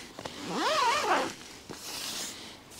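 A zipper on the door of a Kuiu Storm Star 2-person four-season tent is pulled in one close, quick rasping stroke lasting about a second, followed by a fainter second pull.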